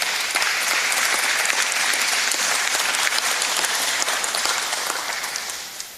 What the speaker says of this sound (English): we definitely have to give them a round of applause for all their hard work